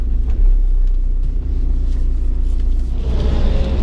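A VW T5 van rolling on new all-terrain tyres over gravel, a loud steady low rumble of tyres and engine from inside the cabin, with no speech.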